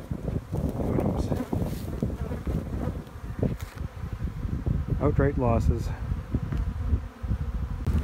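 A dense buzzing of agitated honey bees swarming close around hives opened without smoke, with a person talking over the drone and some rustling handling noise.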